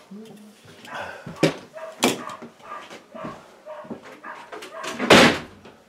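Small yappy dogs bark in short, sharp bursts several times, fairly close, mixed with thumps and talk in an outdoor setting.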